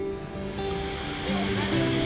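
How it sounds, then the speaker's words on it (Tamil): Rushing water where five waterfalls converge in the Western Ghats of Tamil Nadu, a dense, continuous roar of falling and churning water heard up close. "5 அருவிகளின் சங்கமம்."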